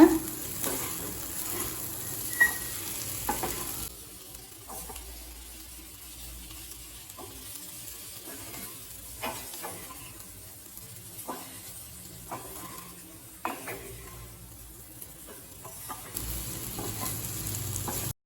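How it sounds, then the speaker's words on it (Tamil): Raw banana masala fry in a pan, stirred after ground masala paste is added, with a steady soft sizzle under scattered scraping spoon strokes, fairly quiet and close, no talking. "இப்போ நம்ம அரைச்சி வச்சுருக்க விழுது இதில் சேர்த்துக்கலாம். நல்லா மிக்ஸ் பண்ணிடுங்க."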